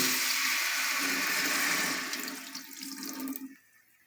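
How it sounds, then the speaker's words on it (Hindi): Water poured into a pot of mutton paya being cooked, a steady loud rushing splash that runs for about three and a half seconds, then tapers off and stops. "इस टाइम पे आके हम इसमें तकरीबन 2 कप के करीब पानी शामिल करेंगे।"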